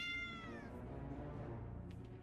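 A cat in World of Warcraft gives one short, high meow at the start, followed by faint low background game ambience.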